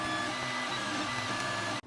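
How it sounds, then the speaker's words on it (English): A 3D printer runs steadily while printing hard drive bays, giving a continuous whirring hum with faint tonal motor whines, close and without voices, then cutting off abruptly at the end. "Printer, printing off hard drive bays today."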